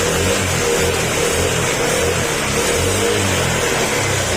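A cold Honda Click 125 scooter engine, smoking from wear, runs steadily at close range with a constant rough mechanical drone and no pauses.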